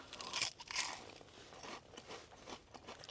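Crispy fried onion rings from Culver's crunch loudly at close range, with a couple of sharp bites followed by quieter crackling chews, and no voices.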